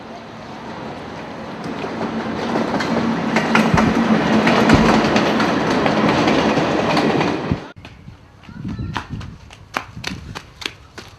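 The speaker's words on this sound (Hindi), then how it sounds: "यही रेल है, अगर दिल्ली जाना तो इसी में बैठ लो" A train passes with a loud, close rumbling roar and rattle that holds for about seven seconds, then cuts off abruptly and leaves quieter scattered sounds.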